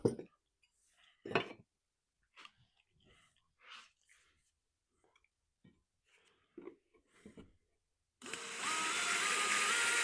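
A few scattered clunks and knocks, then a power drill drilling cedar wood for a raised garden bed spins up near the end and runs loud and steady, a harsh whirring grind.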